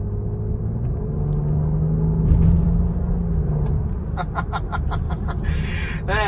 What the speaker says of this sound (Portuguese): Ele tem uma pegada de V6, mas o som é de um V8 aspirado